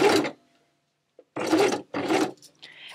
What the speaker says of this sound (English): this is harder to go through the sewing machine, so again a walking foot will help you here